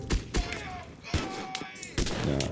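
Gunner units fire in the video game Mud and Blood as repeated sharp bursts, several closely spaced shots with gaps between, mixed with other game sounds.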